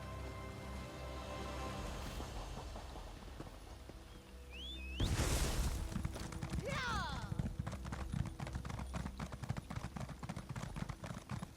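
Horse hooves clip-clop in the ESO video game, a steady walking rhythm of hoof falls that turns into splashing as the horse enters water.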